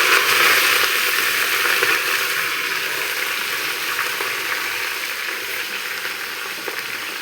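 Taro stems (karkalo) frying in hot oil with fenugreek seeds and dried chillies give off a loud, steady, close sizzle that holds evenly throughout with no voices.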